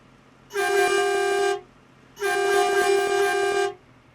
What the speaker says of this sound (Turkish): Kornayı beğendim.